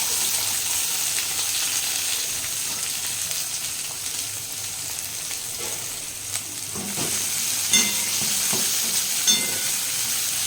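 Capsicum, tomato, chopped ginger and green chilli fry in a pan, producing a continuous hiss with scraping stirs and a few sharper clinks near the end; no voices.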